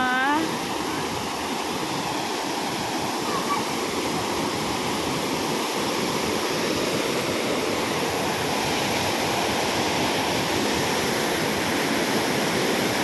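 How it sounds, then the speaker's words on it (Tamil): Water rushes forcefully at Kodiveri Dam, a dense, steady roar that stays loud and close for the whole stretch without letting up. "தண்ணி பாருங்க எவ்வளோ ஃபோர்ஸாக போய் அடிக்குதுன்னு."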